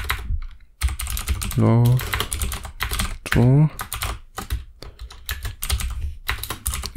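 Steady rapid clacking of a computer keyboard during Lua and Love 2D programming, continuous close typing with short pauses, under someone speaking German throughout.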